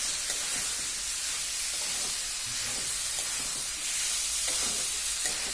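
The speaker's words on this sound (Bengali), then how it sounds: "যে মটরশুঁটি আছে সেটাও এর মধ্যে দিয়ে দিব। এখন এটাকে ভালোভাবে নেড়ে দিব।" Green peas being stirred in a hot cooking pan with other ingredients, a steady close sizzle and hiss with soft scraping and shuffling of the spoon throughout.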